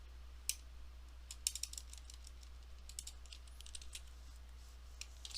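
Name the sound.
typing on a computer keyboard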